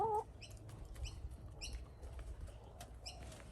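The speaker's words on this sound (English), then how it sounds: "Let's go feed the chicken, guys." Chickens cluck and chirp in short repeated bursts at a backyard feeding, moderately close over low ambient noise, with a brief higher call at the start.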